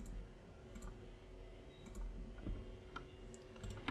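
Soft key clicks and taps from a computer keyboard while typing into the Unity editor, quiet and irregular against faint room hiss, with a few sharper clicks near the end.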